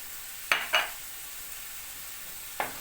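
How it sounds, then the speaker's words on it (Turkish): Onion and garlic sauté in butter with tomato paste for a spiced chicken sauté, making a faint, steady sizzle. Two quick spoon scrapes come close together, then a third follows a moment later. "Soğanla sarımsak kavrulsun."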